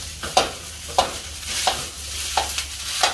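Food being stir-fried in a pan gives a continuous sizzle, with rhythmic scraping stir strokes about every half second, close and fairly loud, with no talking.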